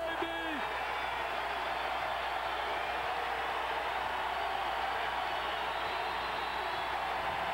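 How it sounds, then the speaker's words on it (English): A packed college basketball arena crowd roars in a steady, dense wash of noise during an Indiana versus Michigan game in 1997, with no breaks across the stretch. "Listen to this crowd"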